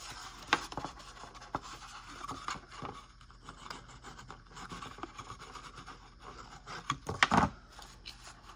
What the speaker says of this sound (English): then I'll use my bone folder